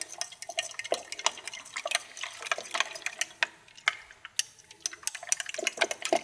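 A generous amount of essential oil dripped into body wash, a quick, irregular patter of small liquid drips, close and fairly steady throughout.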